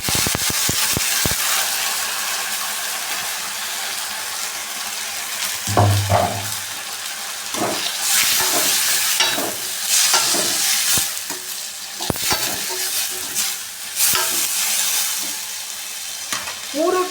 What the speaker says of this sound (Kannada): ಫ್ರೈ ಮಾಡ್ಕೊಂಡಿದ್ದೀನಿ ಇವಾಗ ಟೊಮೊಟೊ ಹಾಕೋತಾ ಇದ್ದೀನಿ